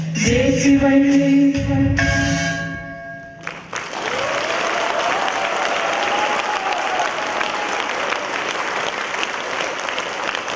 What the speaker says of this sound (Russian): Ваши аплодисменты испытательному батальону